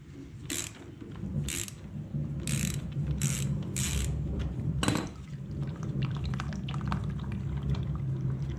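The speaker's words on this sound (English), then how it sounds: "to remove this, it is a 17mm socket, and we're just gonna go ahead and take this off" A ratchet with a 17mm socket clicks in several quick bursts while removing the oil filter on a Harley Sportster, followed by a low, steady trickle of draining oil, close up and without talk.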